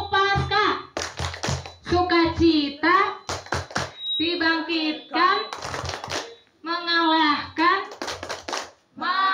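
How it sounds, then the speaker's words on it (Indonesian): A congregation at an outdoor Easter service of the GKIN Jambuwer church performs a rhythmic clap chant: voices, including children's, chant together in bursts, punctuated by loud, sharp group claps in a steady pattern. "Satu kali lagi, tepuk Paskah"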